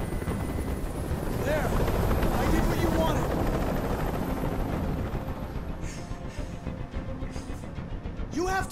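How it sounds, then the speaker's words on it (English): A helicopter hovers in the game Detroit: Become Human, its rotor making a constant loud roar that covers the whole scene. A voice speaks over it and short tonal sounds come in near the end. "Tell that helicopter to get out of here."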